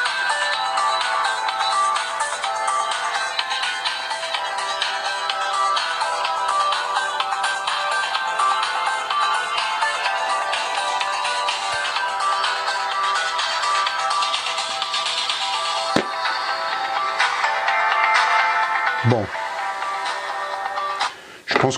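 A Vernee Mix 2 smartphone loudspeaker plays a ringtone melody that runs continuously, thin and bright with no low end, ending in a few handling knocks.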